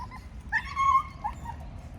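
Dogs on an outdoor walk in nature give a few short whimpers and yips, faint and brief, over quiet background.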